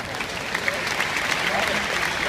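An outdoor audience gives a round of applause at a Christian presentation in a park, brief continuous clapping heard close and alone.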